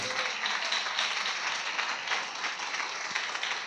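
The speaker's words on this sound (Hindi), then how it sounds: "जोर से ताली बजाई ना, अपने यीशु के लिए बजानी है" A church congregation claps loudly and steadily, a dense, continuous wash of many hands filling the hall with no pauses.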